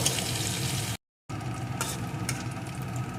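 Crushed garlic cloves frying in hot oil for a small-potato aloo dum, a soft continuous sizzle with a few light scrapes, cut briefly by a short gap of silence.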